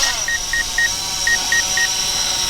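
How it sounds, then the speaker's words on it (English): DJI Phantom 4 drone vision system beeping in flight, a series of six short, evenly spaced high-pitched beeps in two groups of three over steady motor and wind noise. "It actually just stopped itself and then had a vision beep"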